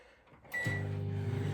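A kitchen microwave oven with a potato inside is switched on, a quick beep followed by the low, steady hum of the running oven rising up and droning on evenly.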